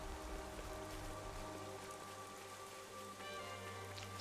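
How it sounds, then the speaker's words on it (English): Steady, faint rain patters in the video game Xenoblade Chronicles 3, a soft continuous hiss of drops on surfaces with a low hum of background music beneath. "Rain, a blessing."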